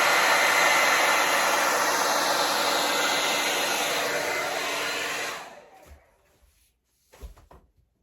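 A hair dryer blows loudly and steadily for about five seconds, then winds down and switches off, followed by a couple of soft knocks.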